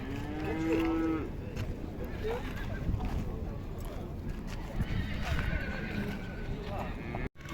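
Horses neigh and whinny amid cattle mooing and hoof clatter at the Karakol livestock and horse market by Lake Issyk-Kul, with a loud whinny early on over a busy, continuous farm-animal din and background voices.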